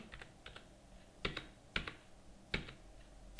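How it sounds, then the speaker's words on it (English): An invoice number is typed on a computer keyboard in a Tally Prime accounting session: a few light taps, then three louder, evenly spaced keystrokes, close and clear, with no talking. "type the invoice number 3549."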